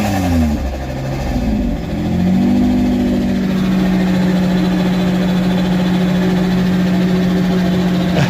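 An old engine, long unused and still burning off old oil, runs loud and close, revving briefly at the start before settling into a steady, even drone that holds to the end.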